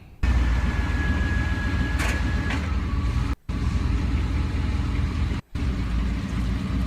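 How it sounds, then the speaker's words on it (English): Chevrolet Suburban reversing slowly, a steady low engine rumble with a faint whine, continuous apart from two brief dropouts. "that's just me backing up in the Suburban"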